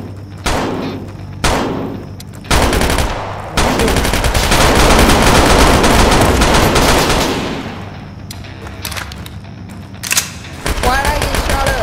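Machine-gun fire in a combat video game comes in several loud bursts, one sustained stretch of rapid shots in the middle, and scattered shots afterward, with brief gaps between volleys.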